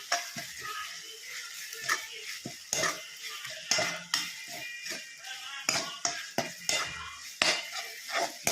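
Ginger garlic paste cooks with tomatoes in a pan, stirred in an uneven rhythm of scraping and clanking spoon strokes over a soft background sizzle, close by and without speech.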